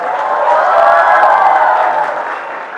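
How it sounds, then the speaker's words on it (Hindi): Audience applause in a university auditorium, a loud dense burst of clapping from a large crowd that swells and then fades over about three seconds, with no talk over it. "आप सबकी भरपूर तालियों में"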